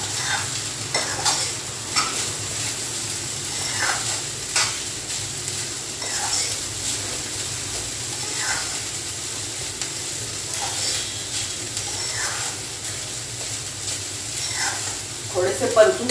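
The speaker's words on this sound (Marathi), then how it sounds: "थोडंसं जाड परतून घ्यायचं आपल्याला तुपामध्ये पोहे" Poha (flattened rice) stir-fried in ghee, a steady close sizzle with repeated scraping strokes of a spatula against the pan every second or two, continuous throughout.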